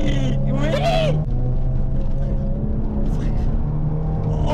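A BMW E30 318is restomod engine idling while it warms up, a steady low rumble that stays close and loud throughout, with a brief voice near the start.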